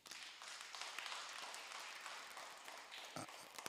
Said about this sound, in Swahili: Wapige makofi.